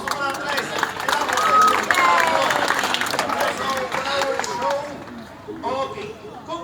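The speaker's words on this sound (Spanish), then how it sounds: "fuerte aplauso para Andrés." Applause from an audience at a parrot show in Comares, Spain, clapping that swells and then fades over several seconds beneath a presenter speaking over a loudspeaker.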